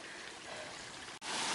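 A creek in dense New Zealand bush on the North Island ranges flows with a soft, even rushing and trickling wash, faint and continuous, with a brief dip near the end.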